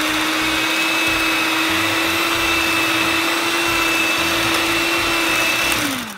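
An electric mixer beats sugar for scratch-made brownies, giving a steady, loud motor whir with a high whine that holds evenly for about six seconds before winding down at the end.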